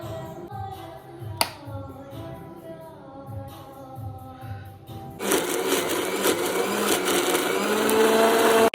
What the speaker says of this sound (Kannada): ಮಿಕ್ಸಿ ಸೌಂಡ್ ಕೇಳಿಸ್ಕೊಂಡು ಬಂದ್ಬಿಟ್ಟು ಮತ್ತೆ ಆ ಮಿಕ್ಸಿ ಆಫ್ ಆಗ್ತಿದಂಗೆ ಮತ್ತೆ ಹೋಗಿ ಕುತ್ಕೊತಾ ಇದ್ದಾನೆ